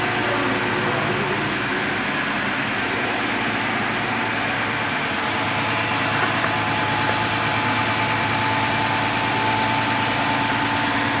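A Hyundai Grandeur IG car engine idles steadily throughout, a continuous mid-low hum with faint vibration and no talk over it.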